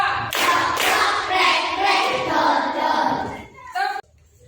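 Children in a classroom clap together in a group, sharp claps ringing out amid lively young voices, the claps and chatter overlapping before stopping abruptly.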